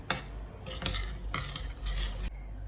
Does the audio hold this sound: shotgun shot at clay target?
no